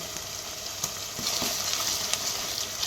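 Ginger paste fries in a pan over softened onions, giving a close, steady sizzle punctuated by a few soft scrapes and stirs, with no talking.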